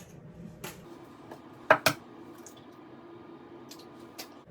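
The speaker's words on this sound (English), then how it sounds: "Crack each egg into each well" Eggs cracked one at a time into wells of a cheesy polenta bake, heard as a few faint shell taps followed by two sharper cracks near two seconds, then soft wet drips in a quiet kitchen.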